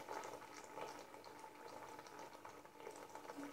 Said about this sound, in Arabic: دابا غادي نجيب الماء كيكون طايب كما كتشوفوا معايا غليان مزيان. كنبدا كنكب حتى كيوصل تقريبا النص تاع الكيسان